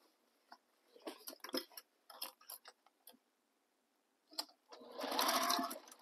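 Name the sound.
sewing machine stitching tote bag seam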